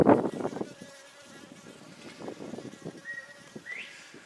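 Bees buzz and drone in and around an old truck gas tank outdoors, a steady mid-level hum with a few louder close passes at the start and a thin rising whine near the end.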